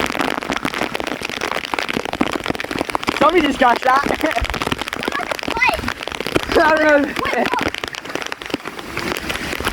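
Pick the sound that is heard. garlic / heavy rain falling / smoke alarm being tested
heavy rain falling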